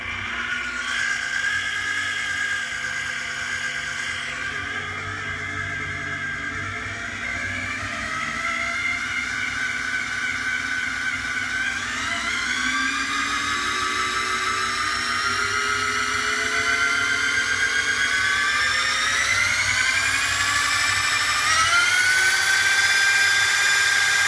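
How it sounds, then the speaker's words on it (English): A high-pitched drill motor whines continuously while spinning a small generator, its pitch climbing steadily as it spins faster, like a drill revving up under load. "use my drill motor here and spin it"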